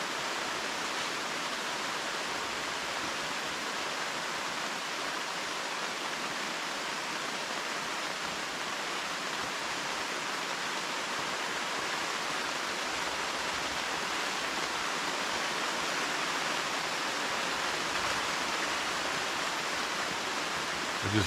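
Rain falls on an Ozark Trail 7 person tipi tent, a dense, steady, even hiss that continues unbroken throughout with no voices.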